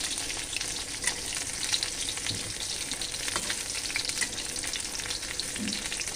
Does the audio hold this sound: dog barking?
no